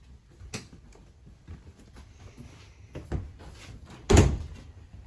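Doors and cupboards in a Coachmen Catalina Legacy Edition 343BHTS RV are shut and latched for travel, with a few soft knocks followed by one loud, sharp slam near the end.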